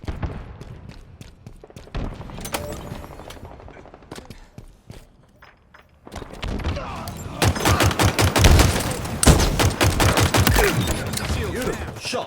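Halo Infinite gameplay with rapid bursts of gunfire, sparse shots at first then a dense, loud barrage of automatic fire and impacts in the second half.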